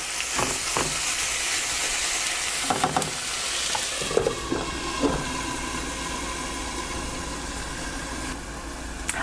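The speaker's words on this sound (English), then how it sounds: "let that simmer just a little bit" A Mediterranean tofu scramble sizzles and simmers in a pan with a steady broadband hiss, broken early by a few clinks and scrapes of a utensil, then settling into a continuous close fry.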